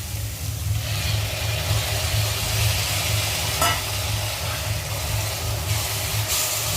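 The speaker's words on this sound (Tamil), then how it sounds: "இப்போ இஞ்சி பூண்டு பேஸ்ட்டு கலக்க போகிறோம்." Ginger garlic paste is stirred into a pot of vegetable kurma, with a steady, even cooking murmur over a constant low hum; there is no talking.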